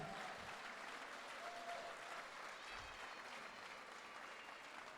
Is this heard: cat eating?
no